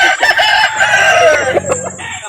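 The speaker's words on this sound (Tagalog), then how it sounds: "Yan, napakaraming manok." A rooster crows loudly and close at a busy chicken market in Calauan, Laguna, with other fowl clucking and squawking around it.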